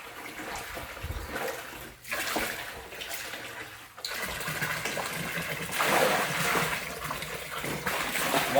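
Clean water pours into a catfish biofloc pond, a continuous splashing gush that surges and fades in stretches, close and moderately loud.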